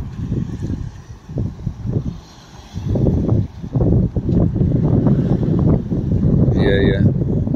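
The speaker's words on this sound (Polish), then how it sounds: "Wieje i fala rozbija się o rafę." Strong wind buffets the microphone at a beach club while waves break on a reef, a rough, roaring wash that surges and swells throughout.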